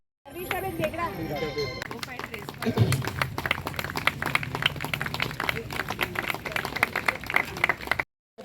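Loud, dense applause from an audience at a Gujarat State Yoga Board yoga protocol and voter awareness event in Vadodara, sustained clapping filling several seconds and ending abruptly.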